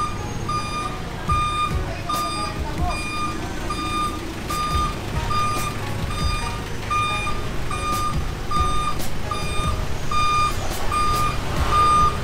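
A tow truck's reversing alarm sounds on a Manila street, steady evenly spaced beeps repeating for the whole stretch over engine rumble and traffic noise.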